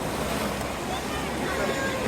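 Continuous roar of surf and wind close by on a rocky shore, waves washing without a break.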